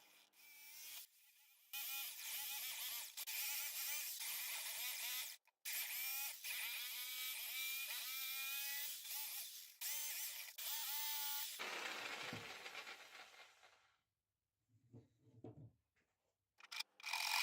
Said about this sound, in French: On dégrossit ensuite la forme avec une scie sauteuse.